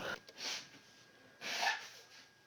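Two short, soft, breathy bursts of someone blowing their nose in a quiet room, the second one longer and stronger.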